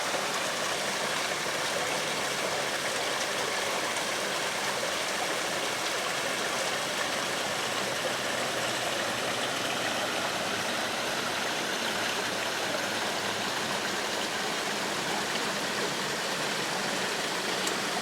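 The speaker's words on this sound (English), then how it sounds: "this creek goes all the way down to," A creek runs steadily down a steep embankment toward a larger river, its continuous broadband rush of flowing water near and unbroken the whole time, with no voices.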